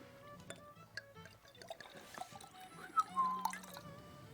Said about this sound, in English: I will put a drop of water in mine.